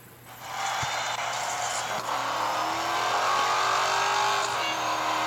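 Race car engine from a NASCAR video game, a steady loud high drone holding through a single timed lap, its pitch slowly rising as the car accelerates, with no other cars around.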